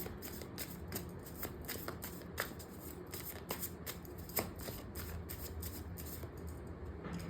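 Light Seer Tarot cards handled and drawn, giving a steady run of soft papery riffles and sharp flicks and snaps, close and fairly quiet with no talking.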